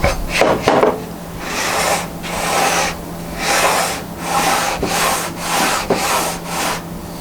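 A tight-fitting shop-made wooden tenoning jig slides back and forth in steady rasping strokes, wood rubbing hard on wood, loud and close, about seven passes with no talking.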